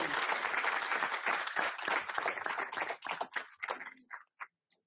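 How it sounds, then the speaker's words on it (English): Attendees at a school district board meeting applaud a visiting former superintendent, a full round of clapping that thins into a few scattered claps and fades out. "Let's give him a round of applause for visiting Aldine ISD."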